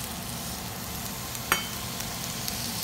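Water added to a hot frying pan of green beans gives a steady close sizzle with a brief sharp spatter near the middle, and no one speaks.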